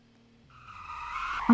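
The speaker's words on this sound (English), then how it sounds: "I'm so good at doing drifts." A car drifts in a roleplay driving video game, with a rising tire squeal that swells over about a second and ends in a sudden louder burst.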